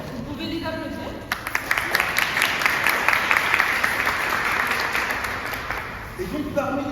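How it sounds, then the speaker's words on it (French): An audience applauds two volunteers, with dense, steady clapping that starts suddenly after a spoken line, holds for several seconds, then fades as talking resumes. "Vous pouvez les applaudir."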